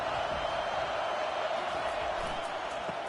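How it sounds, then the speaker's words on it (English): Steady stadium crowd roar fills a college football video game featuring Colorado State Rams, pinned deep in their own end, a continuous dense wash of noise without distinct peaks. "this crowd trying to help keep them there"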